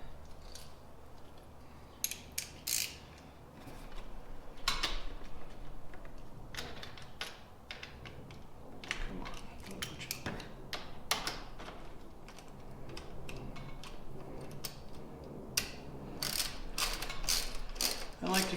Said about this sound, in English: now that it's loosely on here, we need to wrench these three down